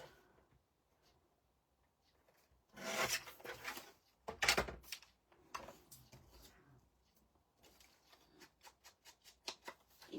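Paper edges are trimmed for a handmade album, with short bursts of dry rasping and scraping strokes close by, separated by quiet pauses.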